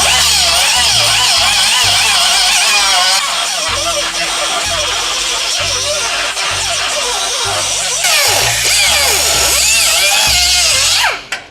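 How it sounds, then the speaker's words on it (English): An angle grinder with a cutting wheel cuts continuously through a weld on a square-body Chevy truck, a loud, sustained high whine with rising and falling pitch that ends abruptly. "take our cutting wheel and our grinder and try to eliminate this weld"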